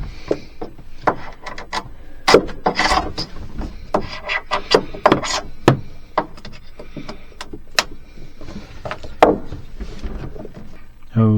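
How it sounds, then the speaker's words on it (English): Sanding old gray bilge paint off boat wood, with a run of sharp scraping and rasping strokes in uneven bursts, close and fairly loud. "we're done sanding all the gray bilge paint"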